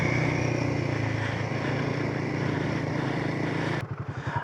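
Steady, loud motorcycle engine hum while riding a hilly Mt Terrible trail, with a brief throttle blip and choppier, uneven running near the end.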